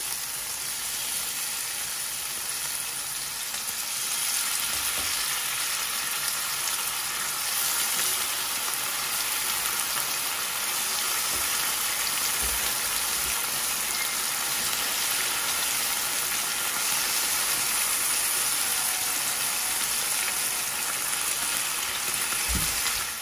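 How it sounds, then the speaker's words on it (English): Steady, loud sizzling of steak pieces frying in a hot pot continues without pause, a dense crackle with occasional faint clinks. "we will be frying our steak"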